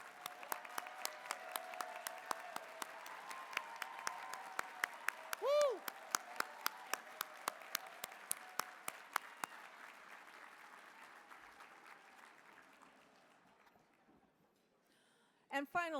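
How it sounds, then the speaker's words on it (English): A crowd at a political gala applauds candidates who stand, steady clapping from a large room that fades out gradually, with a brief voice at the very end. "please stand up and be applauded"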